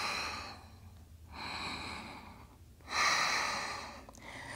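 Slow, steady breathing during an intermediate vinyasa yoga flow, two long audible breath cycles with soft airy inhales and exhales, close and fairly quiet, no talking.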